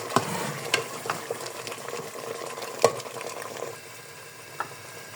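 Poppy seed halwa roasts in desi ghee in a pan, giving a soft continuous sizzle broken by scraping stirs and occasional sharper clanks, close and quiet with no talk.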